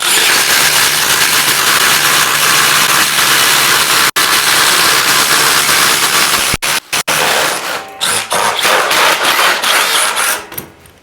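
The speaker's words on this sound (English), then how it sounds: "So we're going to throw this 7/8 spade bit instead." A loud DeWalt XR impact driver boring with a 7/8 inch spade bit whines steadily for several seconds, then cuts in and out in short bursts before stopping, close to the microphone.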